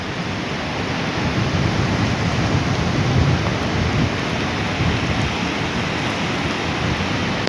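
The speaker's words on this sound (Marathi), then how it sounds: "आता तुम्ही थोडा पाऊस पण यायला चालू झालेला आहे" Rain falls by the Godavari River in a steady, broad rush with a deep rumbling undertone, continuous throughout and fairly loud, with no voices.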